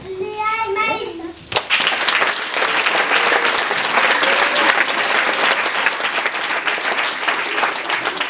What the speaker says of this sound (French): Veuillez applaudir Léa et Maëlys